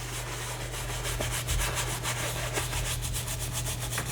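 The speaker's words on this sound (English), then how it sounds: "I'm gonna take this brush though and kind of blend them a little bit at the bottom" A 1-inch brush scrubs rhythmically across a canvas, blending wet-on-wet oil paint. The strokes make a steady, close rubbing hiss, with a constant low hum underneath.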